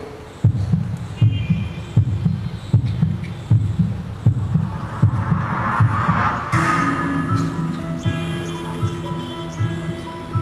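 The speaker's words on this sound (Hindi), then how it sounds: "मेरी धड़कनें बंद मत करो, मुझे धड़कना है।" A close, loud heartbeat sound effect thumps in a steady double-beat rhythm, later backed by a low sustained hum and faint crowd-like wash.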